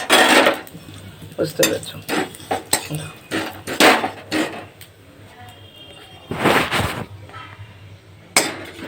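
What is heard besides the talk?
stirring spices in a pan with a ladle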